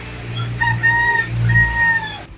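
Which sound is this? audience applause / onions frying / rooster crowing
rooster crowing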